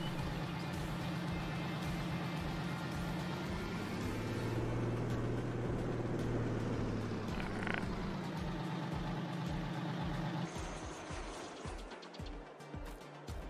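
Steady low diesel rumble of a Kenworth T800 truck idling in a video game near a warehouse, holding constant for about ten seconds before dropping to a quieter, uneven idle.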